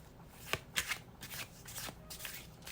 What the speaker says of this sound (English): let's now shuffle your last oracle deck